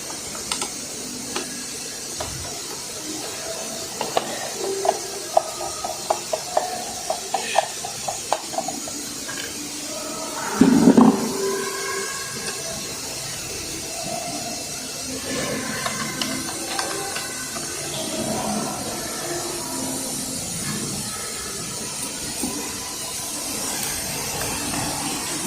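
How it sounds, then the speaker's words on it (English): A vacuum pump for a CNC router runs with a steady hiss and hum, with scattered ticks and clicks and a brief louder burst partway through. "This is a vacuum pump."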